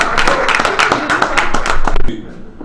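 Audience at a general assembly clapping in a dense burst of many hands, sharp overlapping claps for a couple of seconds before tapering off, close and fairly loud.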